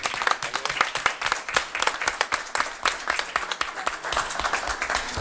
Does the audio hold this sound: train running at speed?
no